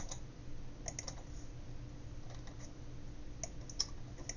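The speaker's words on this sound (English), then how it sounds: "Oh, I'm typing that." Typing on a computer keyboard while coding in C# in Unity, a steady run of faint, irregular key clicks with a few sharper taps, heard alone at low level.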